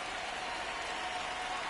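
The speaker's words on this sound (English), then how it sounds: "This rain is not letting up." Rain falls at a baseball stadium during a Yankees versus White Sox game, a dense, continuous hiss of drops spread evenly across the whole stretch with no voices over it.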